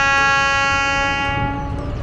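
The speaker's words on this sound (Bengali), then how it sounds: "ট্রেন দমদম স্টেশন পার করছে।" A train passing Dum Dum station in Kolkata sounds a long, steady, loud horn with layered harmonic tones over a rumbling undercarriage, the horn fading toward the end.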